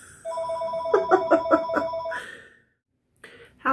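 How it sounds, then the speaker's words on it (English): A telephone bell rings in a rapid, loud trill close by, stops for a moment, then starts ringing again. "My phone's ringing."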